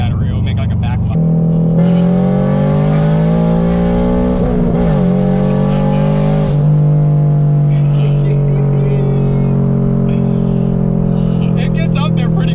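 A straight-piped Toyota GR86 roars under hard acceleration from 40 to 70, its exhaust note climbing steadily with a brief gear change in the middle. The sound is loud and close from inside the car, with talk in the cabin underneath.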